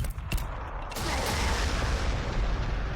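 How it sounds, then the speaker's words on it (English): A frag grenade explodes in the video game Warhammer 40,000: Sanctus Reach, a muffled boom that swells into a dense, sustained rumble with some clatter, lasting several seconds. "Let's just throw some frag back there."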